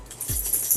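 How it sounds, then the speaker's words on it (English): A dog whimpers briefly near the microphone, a couple of soft low whines over a steady background hiss. "That's my dog."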